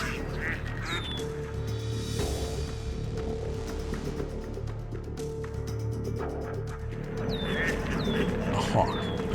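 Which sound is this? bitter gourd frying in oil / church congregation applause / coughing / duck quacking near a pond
duck quacking near a pond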